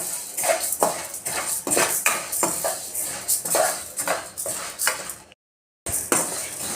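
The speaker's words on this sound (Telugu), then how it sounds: "శనగపప్పు అయితే యాడ్ చేసుకొని బాగా ఫ్రై చేసుకోవాలండి" Chana dal is dry-roasted in a pan over a medium flame and stirred constantly, making a busy, rattling scrape and clatter of lentils and metal spoon in a steady rhythm, broken by one brief silent gap.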